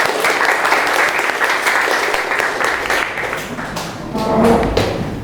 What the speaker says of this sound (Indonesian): Tepuk tangan biar meriah.